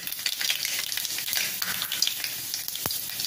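Mustard seeds crackle and sizzle in hot oil for a tempering while making a Maharashtrian taro leaf (alu) curry, a steady dense frying hiss with a brief sharp pop near the end, close and fairly loud.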